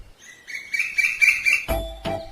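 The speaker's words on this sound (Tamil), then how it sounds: "உன் பாட்டு எனக்கு ரொம்ப பிடிச்சிருக்கு. உன் பேர் என்ன? குயில்." Cartoon koel song in a Tamil children's animation: a rising run of bright, whistled chirps building to a sustained trill, followed by two soft thumps, heard alone without talk.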